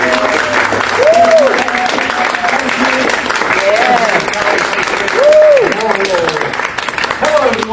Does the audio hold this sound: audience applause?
yes